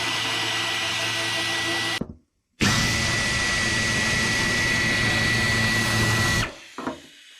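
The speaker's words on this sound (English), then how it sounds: "Just getting the last of the bolts out now" A power tool, likely an impact gun or drill, removes the last bolts from the fender of an old pickup truck: a long loud whir, a brief stop, then another sustained run that cuts off with a small clatter, no speech.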